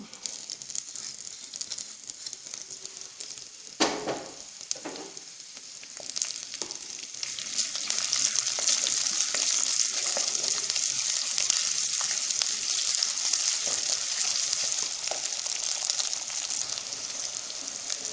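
Fennel seeds, green chili and ginger garlic paste sizzle in hot oil for a paneer masala, a soft crackle that jumps with a clatter as ingredients go in, then settles into a steady, louder hiss.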